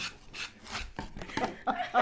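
Rhythmic scratchy rubbing of sandpaper against the edges of a wooden wall panel, repeated strokes at a steady pace, fairly soft and close.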